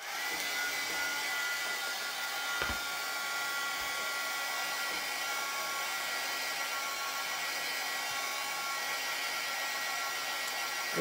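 A hair dryer blows over a chalk-painted surface, a constant loud whirring roar running steadily throughout with no pauses.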